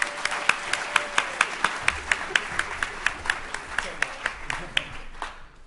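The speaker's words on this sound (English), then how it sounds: "A bit of applause, come on" A small audience claps on a conference stage during a journal club showdown event, loose steady claps with sharp regular peaks, fairly near, fading toward the end.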